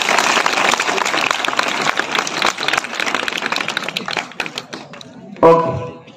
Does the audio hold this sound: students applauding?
yes